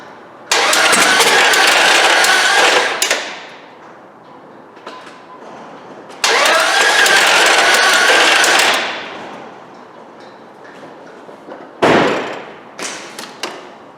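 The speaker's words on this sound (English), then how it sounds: "Now, take a listen to this thing. No mistaking, this thing's gonna need another motor." A worn Dodge 4.7 V8 car engine in poor shape, needing replacement, cranks and runs roughly in two long loud bursts, each dying off after a few seconds, followed by a brief final rough revving burst.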